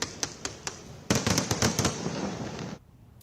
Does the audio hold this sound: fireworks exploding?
yes